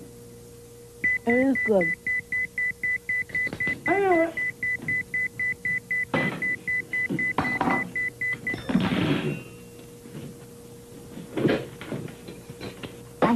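An electronic beeper sounds in a steady, rapid series of short identical tones. Someone speaks briefly over the beeping, and other voices follow after it stops.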